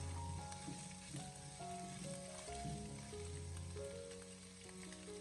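Minced pork sizzles gently in a little oil in a wok over low heat, a soft continuous frying hiss with occasional light stirring, quiet and close, with no voices.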